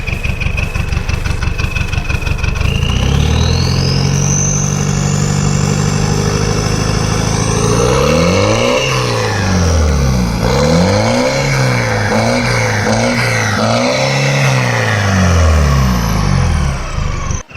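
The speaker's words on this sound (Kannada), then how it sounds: "ಸೊ ನೋಡಿದ್ರಲ್ಲ ಸ್ನೇಹಿತರೆ ಯಾವ ಥರ ಇದೆ ಎಕ್ಸಾಸ್ಟ್ ನೋಟು" A modified Mahindra Bolero 4x4 with a fully changed exhaust system idles with a loud, close exhaust note, then revs repeatedly in rising and falling swells, each rev climbing sharply before dropping back.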